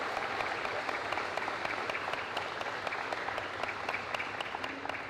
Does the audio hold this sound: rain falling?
no